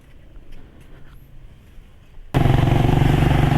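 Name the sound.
motorized tricycle engine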